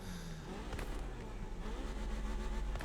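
Car engine from The Crew Motorfest racing game, driving through a tunnel with the music off, giving a steady droning engine note with a rising rev partway through, continuous and fairly quiet.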